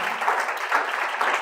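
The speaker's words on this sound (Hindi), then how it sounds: "बहन के लिए तालियां" An audience in a church applauds steadily for a short stretch, an even wash of clapping heard from a moderate distance with no voices.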